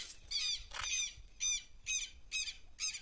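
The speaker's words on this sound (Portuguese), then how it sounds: "Por isso que os pássaros vêm aí comer." Birds calling outdoors near a football field, a series of loud, harsh squawks repeated in bursts roughly every half second, close by and clear.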